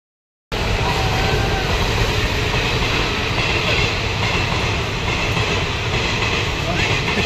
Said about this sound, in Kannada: ಟ್ರೈನ್ ಹೋಗ್ತಾ ಇತ್ತು